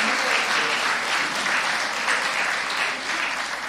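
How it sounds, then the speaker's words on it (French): A congregation claps and applauds together in a dense, sustained wash of hand claps, steady and fairly loud throughout with no pause. "Oui, on peut vous applaudir déjà."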